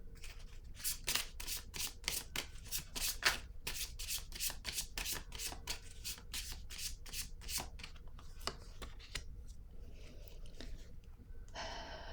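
Tarot cards are shuffled in quick, rhythmic riffles, a long run of crisp close flicks that slows toward the end, followed by a brief flutter.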